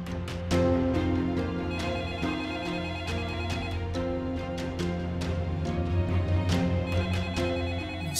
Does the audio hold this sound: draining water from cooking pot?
no